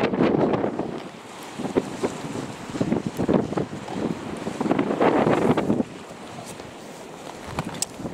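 Strong wind buffets the microphone outdoors near the water, roaring in loud, irregular gusts that rise and fall before easing into a steadier, quieter rush.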